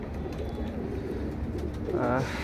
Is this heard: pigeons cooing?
yes